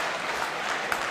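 A dense, steady wash of audience applause at a Hindi kavi sammelan poetry gathering, many hands clapping continuously and evenly with no pauses over the short stretch.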